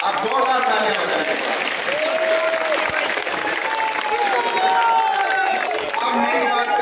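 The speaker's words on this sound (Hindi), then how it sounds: "आप जोरदार तालियां बजाएं।" A crowd at an outdoor election rally for a BJP candidate claps and applauds steadily, a sustained dense wash of clapping mixed with cheering and crowd murmur throughout.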